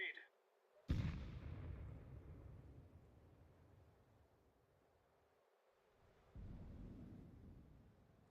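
A thrown grenade bursts in a tactical shooter game, a sudden booming blast followed by a long fading rumble, with a second low rumble rising near the end.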